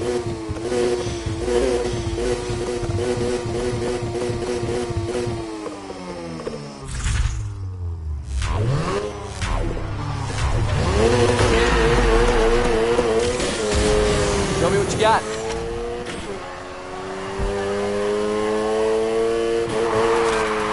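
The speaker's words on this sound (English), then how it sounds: "Slam on the gas to initiate, then steering and control is all up to you." A race car engine in Need for Speed Heat revs hard and loud, pitch sweeping up through repeated gear shifts, briefly dropping away before surging again with a brief tire squeal along the race track.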